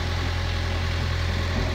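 A car engine idles steadily just after a cold start, warming up with oil pressure building; a close, even low hum with a regular pulsing throb, constant in level, no voices.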